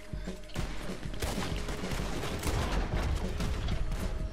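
Dense rumbling blasts and crackling bursts from explosions in Red Dead Redemption 2 overlap continuously, loud and chaotic throughout.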